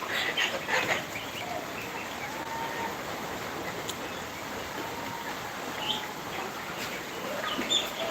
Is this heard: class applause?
no